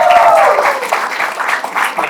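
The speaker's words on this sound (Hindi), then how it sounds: "Make some noise for him." A crowd applauds and cheers at a stand-up comedy show, loud close clapping with a voice trailing off at the start and a few shouts rising over it.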